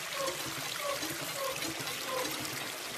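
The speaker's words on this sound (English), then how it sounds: "You then need to fill up that bucket with water with this pump." Watery gurgling from a hand pump filling a bucket in the VR survival game Ocean Craft, a steady rushing splash with a faint rhythmic pumping pulse roughly every half second throughout.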